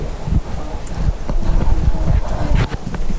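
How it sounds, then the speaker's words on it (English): Strong gusty wind buffets the microphone at an RV campsite by the Harrison River, a rough, rumbling roar that swells and dips with irregular thumps throughout. "It's so crazy windy outside."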